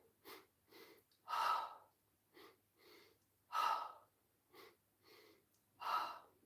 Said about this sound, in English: we are going to start with 2 inhales and 1 exhale